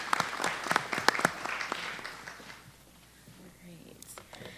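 Audience applause at a Democratic mayoral primary forum in Philadelphia, a dense round of clapping that is loud and then fades away over a few seconds, with faint murmuring after it.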